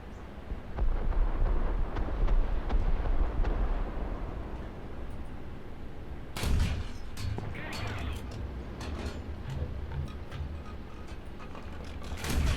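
Gunfire and explosive impacts in the War Thunder tank game, loud rumbling blasts with a sharp burst of shots midway over constant engine drone, with a voice talking at times.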